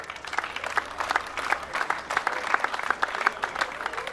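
A crowd applauds the referees at a tournament final, dense steady clapping from many hands filling a hall, moderately loud and continuous without talk.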